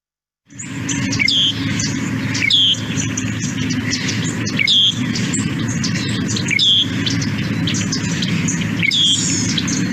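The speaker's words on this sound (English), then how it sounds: "it's really rare to hear these like trills and notes that make up the loggerhead shrike" A loggerhead shrike sings in open grassland, giving repeated bursts of short notes and trills at a steady rhythm against a constant hum of insects and crickets. No one speaks.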